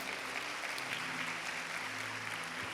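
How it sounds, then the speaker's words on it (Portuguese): A congregation at a family church service claps steadily in strong applause, a continuous wash of hand claps over a faint low musical hum. "Pode dar uma salva de palmas forte."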